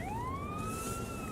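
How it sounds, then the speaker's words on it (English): Police car siren wailing with a rising tone, fairly loud and continuous over traffic noise in a city square. "Oh, there's another police car."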